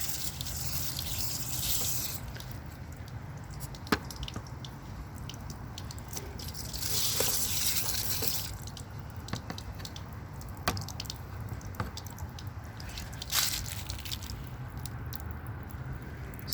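Steady trickle of water draining from a Haier air conditioner with occasional drips and splashes, fairly quiet and continuous, a few louder gushes along the way.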